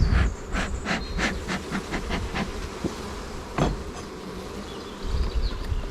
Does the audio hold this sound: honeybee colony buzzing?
yes